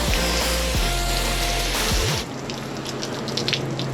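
Water pours and splashes over a freshly wet-sanded boat hull, a steady broadband rush, loud and close, that drops to a lighter trickle partway through, with no talk.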